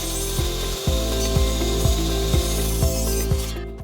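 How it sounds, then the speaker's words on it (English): A miter saw cutting wood at a 45-degree angle gives a steady, loud motor drone with a rhythmic, regularly repeating pulse running through it for the whole stretch. "adjusted the miter saw to make the necessary cut"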